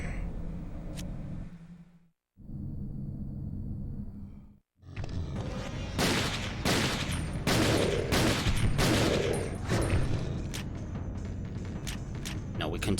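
Rapid gunfire in Resident Evil: Dead Aim, a string of sharp, loud shots fired in quick succession after a brief lull, with a low background hum and a voice talking over it.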